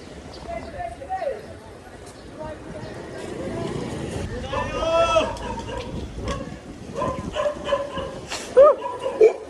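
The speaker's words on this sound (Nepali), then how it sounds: "कुकुरले खेदायो है केटा हो" A dog chases downhill mountain bikers on a trail, barking and yipping in short bursts at close range. Riders shout and talk over the noise of the moving bikes.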